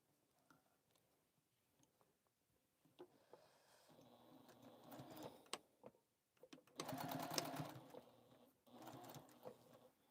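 A home sewing machine runs a quarter-inch seam on a quilted caddy, quiet ticking at first, then several loud rapid stitching bursts close by, stopping and restarting.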